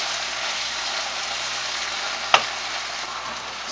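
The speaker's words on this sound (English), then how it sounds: "Put that in. And a nice sizzle." Marinated meat hits a hot pan and sizzles with a steady, dense, crackling hiss throughout. A single sharp click or clink cuts through midway.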